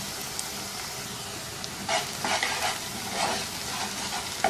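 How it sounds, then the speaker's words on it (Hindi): Onions frying in a pan for chicken karahi, a steady soft sizzle with a few louder bursts of stirring and crackle, close and continuous without any talk. "इतनी देर तक पकाएंगे इस प्याज को"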